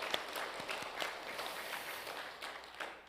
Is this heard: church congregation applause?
yes